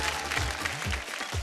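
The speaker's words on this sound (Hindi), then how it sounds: "जोरदार तालियों से स्वागत करी" Studio audience on a Bhojpuri TV reality show clapping to welcome the judges, a loud steady wash of applause with some crowd murmur throughout.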